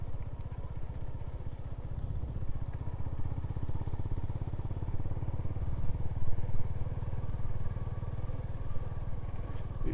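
A Honda GB350 motorcycle is ridden along a grassy dirt green lane on new tyres, its single engine thumping in a close, steady, low rumble throughout.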